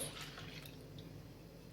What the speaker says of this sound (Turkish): Suyumuzu ortasına havuz gibi boşaltıyoruz.